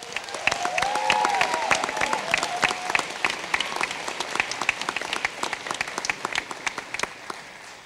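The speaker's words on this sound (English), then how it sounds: "Big round of applause." Steady applause from an audience at a school board meeting, a dense run of clapping that slowly thins and fades over several seconds.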